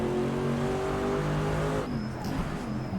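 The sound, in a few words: RSS mod race car engine in Assetto Corsa video game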